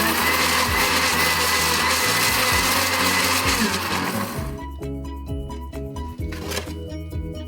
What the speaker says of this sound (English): the blade can just concentrate on mashing the banana up and not having to mix anything else as well